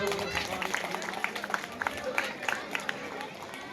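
An audience claps hands at a ceremony where identity cards are handed out, a scattered, uneven patter of claps over a busy crowd murmur and talk.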